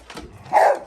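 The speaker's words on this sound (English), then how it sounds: "What are you barking at?" A single short dog bark, close and sharp, preceded by faint snuffling and whimpery sounds.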